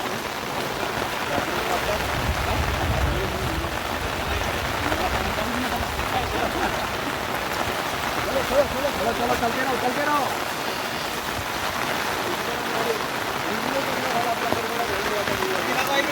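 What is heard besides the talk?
rain falling on a muddy road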